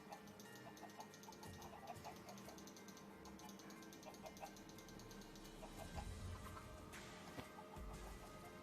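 Minecraft chickens cluck repeatedly in short, bright bursts over a steady game background hum, with a few louder thumps near the end.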